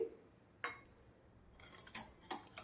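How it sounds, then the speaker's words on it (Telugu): A spoon stirs yogurt and sugar together in a bowl, giving sparse sharp clinks against the bowl and then a quicker run of taps and scrapes, close and quiet with no talking. "ఇప్పుడు ఈ రెండు బాగా కలిసేలా కలుపుకోవాలి పెరుగు పంచదార బాగా కలిసిపోవాలన్నమాట"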